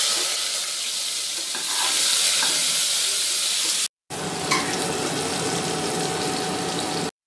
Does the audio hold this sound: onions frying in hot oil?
yes